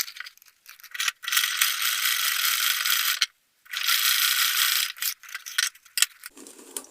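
Sewing machine running in steady bursts while top stitching a leather hand purse, a close mechanical clatter lasting a couple of seconds at a time with brief pauses between runs and no talking.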